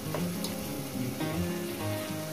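Ghee sizzling in a pan of chicken kosha being browned, a steady close crackle with faint clinks and stirring, no voices.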